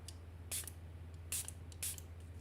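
A spray bottle mists water onto a watercolour painting with masking fluid: three short, crisp hissing bursts at a steady pace, close and quiet, over a low room hum.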